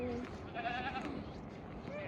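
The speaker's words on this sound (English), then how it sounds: "Goats are excited, wanting to get milked and get this show on the road." Goats waiting to be milked bleat several times, wavering calls at moderate distance over a low background, with a person talking partly under them.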